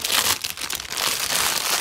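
A plastic wrapper crinkles and crackles as it is pulled off a giant lollipop, a close, loud, continuous rustling with rapid sharp crackles throughout.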